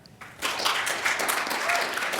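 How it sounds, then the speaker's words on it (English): An audience at a Python conference talk breaks into warm applause, a dense wash of many hands clapping that starts abruptly and holds steady, filling the hall. "Please join me in a warm round of applause for Cheuk."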